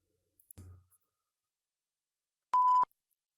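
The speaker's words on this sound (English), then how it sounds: "Maybe I can just find a longer sensor beep." A single electronic sensor beep, a steady pure tone held for about a third of a second, loud and clean, following a brief soft thump and otherwise surrounded by silence.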